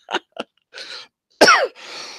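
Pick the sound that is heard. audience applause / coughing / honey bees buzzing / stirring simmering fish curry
coughing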